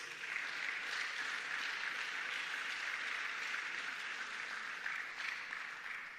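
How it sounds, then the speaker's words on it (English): A fairly distant audience applauds after a conversation event with a prime minister, giving a continuous, even wash of clapping that holds steady before tapering slightly at the end. "Can we give them a round of applause?"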